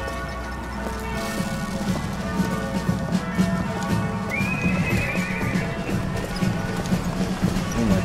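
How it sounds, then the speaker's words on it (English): Mechanical horses in BioShock Infinite neigh and whinny over steady clip-clop hoofbeats, with a busy, dense backdrop of clatter throughout; a rising whinny stands out midway. "Wow, mechanical horses."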